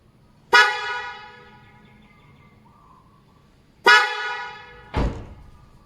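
A loud musical Bosch Evolution fanfare car horn blasts twice, each a bright multi-tone fanfare that rings out and fades, followed by a short dull thump.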